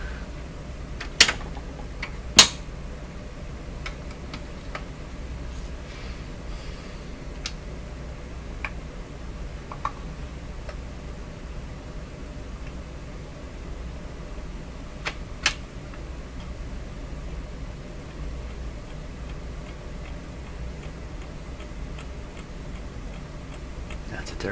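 Motor of a Clairtone console stereo record player running with a faint, steady ticking, occasional sharper clicks standing out above a low constant hum; no one speaks.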